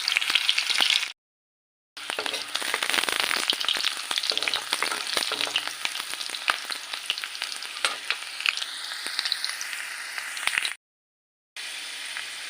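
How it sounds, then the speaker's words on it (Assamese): Chopped onions sizzle and crackle in hot oil for a khichdi, a steady bright frying hiss with scattered pops and occasional stirring, broken by two short silent gaps. "পিঁয়াজখিনি অকণমান ৰঙচুৱা হোৱালৈকে ভাজিম।"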